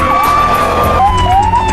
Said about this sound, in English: After hearing the siren of the police car, Fowler felt the upper hand.